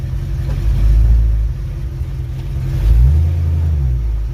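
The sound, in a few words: car engine running in forward gear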